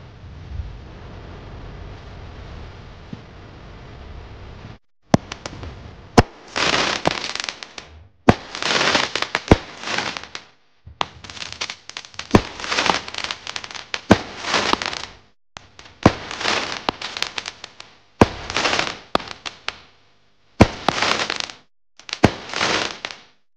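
Rapid crackling bursts from a 9-shot 20mm firework battery go off in repeated volleys separated by brief gaps, after a few seconds of steady hiss.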